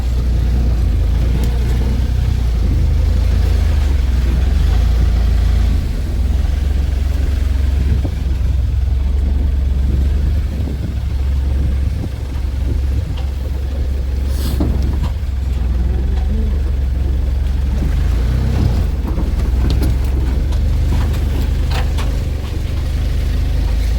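A vehicle drives into a narrow lane with a loud, continuous engine rumble that holds steady throughout, with no one talking.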